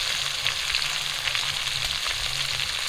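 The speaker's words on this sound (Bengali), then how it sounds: "এই তেলগুলোতে কিন্তু আমি কাঁচা লঙ্কা আর পেঁয়াজ দিয়ে দেবো" Green chillies and onion fry in leftover hilsa fish oil, a loud, dense, continuous sizzle close up with no voices.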